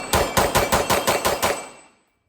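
A Springfield Operator 9mm pistol fires about eight rapid, evenly spaced shots, each a loud sharp crack, and the last one rings out and fades into silence.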